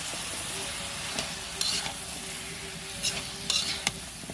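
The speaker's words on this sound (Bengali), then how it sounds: "মশলা কষানো হয়ে গেছে, এবার তরকারি দিয়ে একটু কষিয়ে নেব।" Teasel gourd and potato curry stir-fried in spices, a loud continuous sizzle close up with repeated spatula scrapes and clicks against the pan, no talking.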